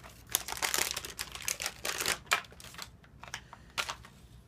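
Plastic packaging for a size 3 laryngeal mask airway crinkles and tears open in a series of short, close, bursty rustles, with no voices.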